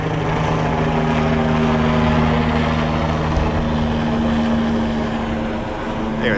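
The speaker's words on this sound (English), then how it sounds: "There they are, losing the helicopter in the sun." Steady droning rotor and engine hum of an NYPD helicopter orbiting over a winter beach at Coney Island, constant and fairly loud, with faint background noise beneath it.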